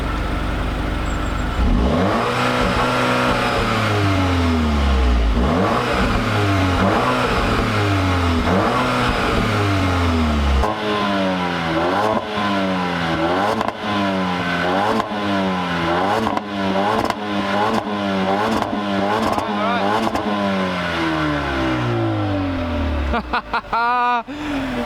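A 2019 Mercedes-Benz A35 engine revs hard from standstill, the note climbing and falling in repeated loud blips, then a rapid series of sharp throttle stabs and crackles toward the end, close and dominant.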